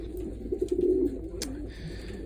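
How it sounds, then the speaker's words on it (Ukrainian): Pigeons cooing in a breeding loft holding around eighty birds, soft repeated low coos over a steady background hum, with a brief flutter or scuffle midway. "Тут зараз є десь порядка 80 голубів"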